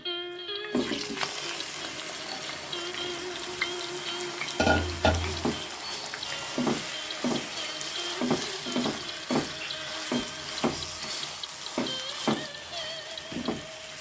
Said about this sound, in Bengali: এখন আমরা কড়াইতে পোড়া মাংসটা দিয়ে দিচ্ছি